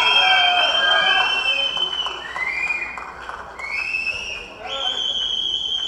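An audience at the Kottukkali film trailer launch event cheers with sustained applause and shrill whistles, a dense, loud crowd roar that swells and dips for the full six seconds.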